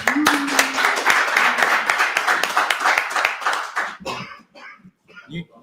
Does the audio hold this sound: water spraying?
no